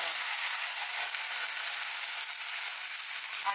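Cumin seeds and fenugreek seeds crackle as they temper in hot oil for a tamarind-jaggery dal, a steady close hissing sizzle with no talk.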